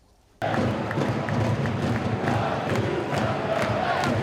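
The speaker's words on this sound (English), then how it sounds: "they were roared on by a modern-day record league crowd" A record league football crowd roars at Valley Parade, home of Bradford City, bursting in loud and sustained after a quiet moment, with dense cheering and shouting filling the stadium throughout.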